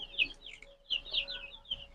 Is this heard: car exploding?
no